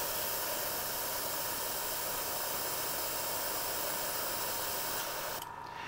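A Reaper/Badger airbrush sprays rinse water from its cup as a steady, close, even hiss that runs for about five seconds and then cuts off sharply.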